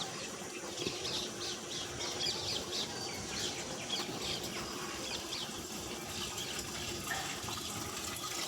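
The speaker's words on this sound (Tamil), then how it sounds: "தண்ணி பிடிச்சிட்ருக்கேன்" Continuous splashing of water pouring into a container, with chickens clucking faintly in the background.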